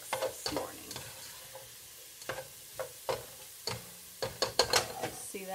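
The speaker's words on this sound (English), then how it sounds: "Just browning those up." Food browns in an Instant Pot for vegan chili, a quiet sizzle under repeated scraping and stirring clicks of a utensil against the pot, irregular and close.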